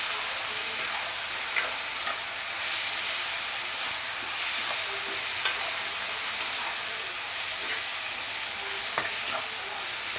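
Tomatoes stirred into a frying Indian pomfret fish curry give a steady close sizzle and hiss with faint intermittent scraping, continuing evenly with no talk.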